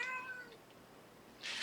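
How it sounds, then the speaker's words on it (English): A cat meows softly indoors, one drawn-out meow at the start and a short, brighter cry near the end, with quiet room tone between. "That's a kitty."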